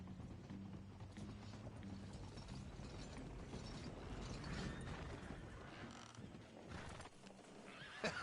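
A horse in Red Dead Redemption 2 whinnies amid clip-clopping hooves and creaking, ratcheting tack, all quite faint and continuous in the background, with a brief louder burst near the end.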